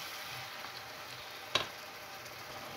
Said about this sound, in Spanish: le añadimos el tomate ralladito o tomate triturado, ¿eh? Y le ponemos la zanahoria y vamos a rehogar un poquito más